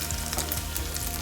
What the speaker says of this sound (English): I'm going to be using my hand to put the yam in the frying pan